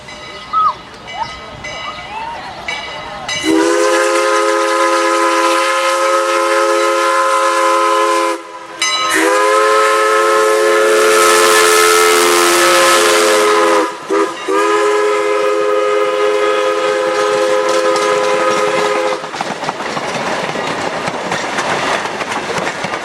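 A Strasburg Rail Road train horn blares in long sustained chords, close and loud, with a short break between blasts and rail rumble underneath, fading out at the end, near the Red Caboose Motel.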